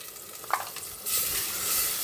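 Dry coriander and cumin go into hot oil in a pot. A quiet background gives way to a soft, steady sizzle that rises about halfway through and holds to the end, with no voices.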